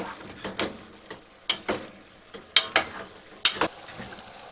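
Peeled shallots being stirred into a pan of lamb in red wine, with a series of sharp scraping and clattering strokes against the pan at irregular intervals over a quiet background and no talking.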